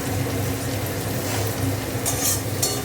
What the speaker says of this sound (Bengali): পেঁয়াজটা একটু ভাজা